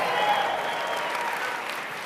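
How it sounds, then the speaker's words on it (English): An audience at a conference event applauds, steady full clapping from a large crowd, moderately loud and sustained, with faint voices underneath. "Give him a tremendous round of applause"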